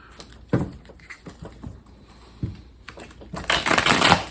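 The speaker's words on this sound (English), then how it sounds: "to shuffle cards like she does at the casino" Tarot cards are shuffled by hand in quick riffles and taps, with irregular crisp bursts and a louder, denser riffle at the end; no talk.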